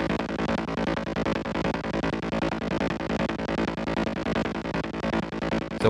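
Hard techno bass layer with no sidechain ducking, a dense, continuous low-end drone pulsing steadily under a driving rhythmic pattern at constant loudness with no dips, and no voices.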